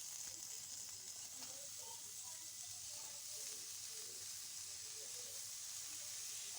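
Cabbage sizzling in a pan with potatoes for a dry cabbage dish, a steady close hiss of frying with faint scraping as it is stirred, continuous throughout with no talk.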